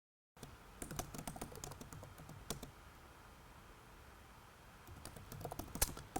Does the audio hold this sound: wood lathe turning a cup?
no